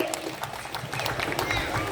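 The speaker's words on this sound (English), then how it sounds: "please join me in a big round of applause for everybody that participated" Audience applause at a drum festival, a steady wash of many hands clapping at moderate volume, with a voice speaking over it.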